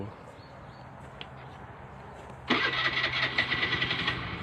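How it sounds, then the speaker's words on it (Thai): A Honda Scoopy i scooter with a newly replaced starter gear cranks and fires up partway through after a quiet wait, then runs on at a close, steady, buzzy idle with slight pulsing. "เปิดสวิตช์ลองสตาร์ทดู"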